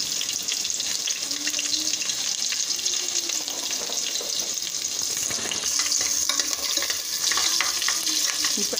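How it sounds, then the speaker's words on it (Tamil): Small and big onions sauté with mustard seeds in a pan over medium flame, giving a steady, close sizzle and crackle with occasional stirring scrapes that continue throughout. "இப்போ நான் சின்ன வெங்காயமும் பெரிய வெங்காயமும் போட்டிருக்கேன். நல்லா வதங்கட்டும். மீடியம் ஃப்ளேமில் வச்சு வதக்குங்க."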